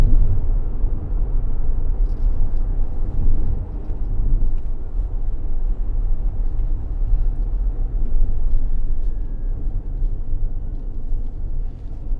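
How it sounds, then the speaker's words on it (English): Electric motor of a Farizon SV van whirring steadily while driving, a continuous low hum blended with road and cabin rumble, even and unbroken throughout, with no talking. "The only thing you can hear in the background is that whirring of the motor."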